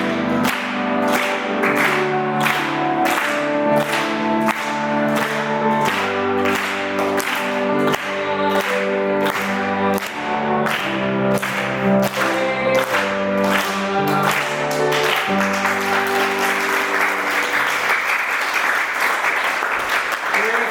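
A church congregation claps loudly in steady rhythm as it sings a birthday song, the sharp regular claps running under the singing before fading into looser, scattered clapping near the end.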